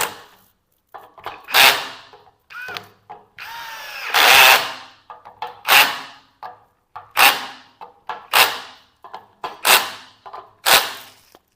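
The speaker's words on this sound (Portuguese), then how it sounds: "Sempre apertando cruzado para o assentamento perfeito aqui das partes." A power tool tightens bolts crosswise on a truck brake protection valve in short whirring bursts, about ten in a row with brief pauses between, close and fairly loud, and no one speaks.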